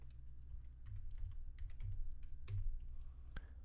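Keys on a computer keyboard tap in short, sparse clicks while a scene is renamed in Ableton music software, quiet and close, with a low background hum underneath.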